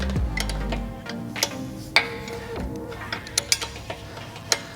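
Wrench tightening a bolt on a Youth SRV trainer, heard as a series of small metallic clicks and ratcheting ticks at irregular intervals over a low steady hum, fairly close.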